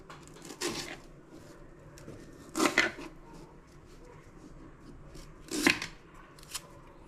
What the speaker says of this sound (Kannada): ಫಸ್ಟ್ ಅಂದ್ರೆ ಉಳ್ಳಾಗಡ್ಡಿ ಹೊಳ್ಕೊತೀನಿ